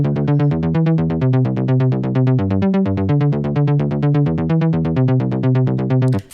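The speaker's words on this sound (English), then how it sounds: "so I add a sausage fattener to boost up the saturation" A progressive house bass line thickened with Sausage Fattener saturation drives a dense, steady stream of fast repeated notes that move among a few pitches, loud and solo, ending abruptly.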